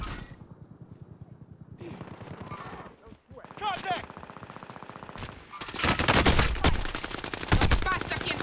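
Automatic gunfire from the video game Call of Duty Warzone, with bursts of rapid shots building into dense, loud sustained fire toward the end, a voice briefly audible between volleys.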